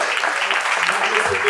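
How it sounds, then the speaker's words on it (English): A meeting audience gives a brief round of applause, a dense wash of clapping that stays even and steady through the short moment. "We could just give him another round of applause."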